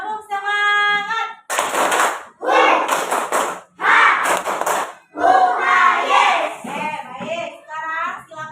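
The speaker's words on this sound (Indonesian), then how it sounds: "yuk, tepuk semangat dulu. Tepuk semangat." A classroom of students performs a rhythmic clapping chant, bursts of sharp group claps in repeated patterns between stretches of a teacher's voice, loud and close.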